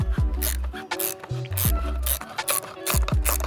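Ratchet clicks come in short bursts as a wheel nut is worked loose on an electric skateboard, a Pro Drive MK3, tipped up during a roadside belt change, with some scraping and handling noise between them.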